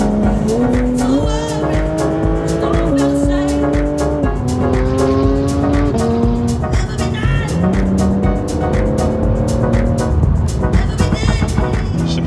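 Powerful car driving fast on an open road, its engine note rising and dropping through gear changes, loud and continuous from inside the cabin.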